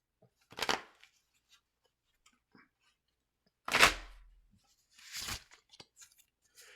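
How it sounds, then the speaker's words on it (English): A deck of playing cards shuffled in a few separate quick riffling bursts, close but quiet, with near-silence between them and no talk. "I take the deck and I shuffle it."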